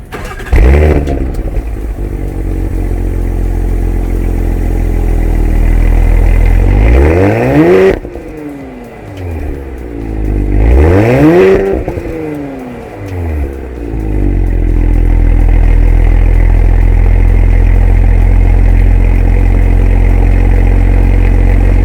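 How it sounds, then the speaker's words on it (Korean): A new Porsche engine idles with a deep sports exhaust rumble, then revs sharply twice, each rise and fall loud and close, before settling back to a steady idle. "그럼 배기 소리를 한번 들어보시죠"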